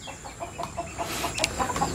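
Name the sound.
native country chickens clucking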